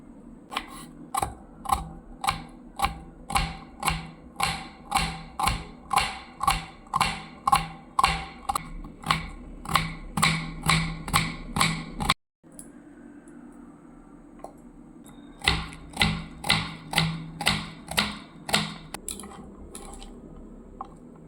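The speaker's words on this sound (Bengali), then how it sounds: "এরপর পেঁয়াজগুলোকে মিহি করে কুচি করে নিচ্ছি" Rapid, even knife chops finely cutting onions on a board, about two per second, in a long run that pauses briefly before resuming at the same pace.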